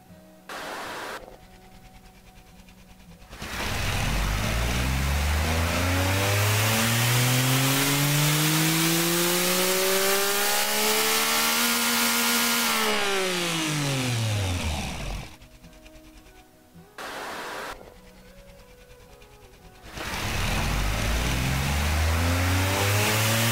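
A tiny 2-litre, 2500 hp engine on a dyno run in the car-building game Automation screams up through the revs in one long sweep, then drops off, with short idle stretches before and after and a second run starting at the end.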